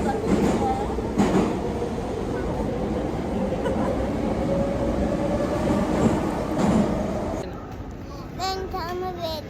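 A metro train runs through an underground tunnel, its steady low rumble and rising whine filling the ride while a child and an adult talk over it, with a brief pause in speech near the end.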